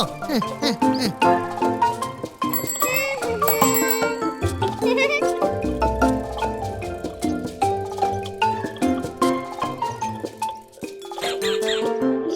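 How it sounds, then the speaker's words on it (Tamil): A bicycle bell in a Tamil kids' cartoon gives a few quick, bright rings over lively music, with cartoon voices speaking around it. "முன்னாடி யாராவது வந்தாங்கன்னா நீ உடனே பெல் அடிக்கணும்"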